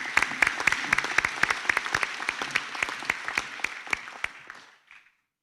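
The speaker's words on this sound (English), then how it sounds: "Please give Carol a round of applause." Applause for a graduate at a 2021 graduation ceremony: a crisp, fairly close run of regular claps over a softer crowd bed, holding steady then fading out and stopping near the end.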